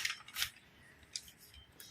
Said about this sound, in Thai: ตรงจุดนี้นะคะชิ้นล่างเราก็จะตัดแบบนี้เลยค่ะ